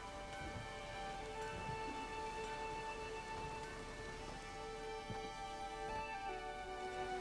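Rain in the video game The Witcher 3: Wild Hunt, a faint, steady patter of drops on surfaces with a soft ticking texture and a few sharper taps throughout.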